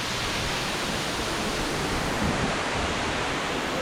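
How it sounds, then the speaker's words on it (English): A small waterfall at an outdoor arts festival pours in a steady, dense hiss of falling water, close and constant with no pauses. "We got the little waterfall."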